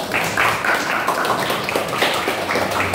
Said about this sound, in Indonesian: Tepuk tangan dulu buat Dava.